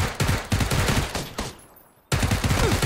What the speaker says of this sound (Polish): Ktoś strzela tu